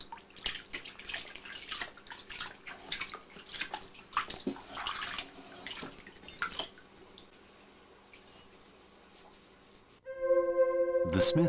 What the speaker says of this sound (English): All surface oil is removed using an ash water solution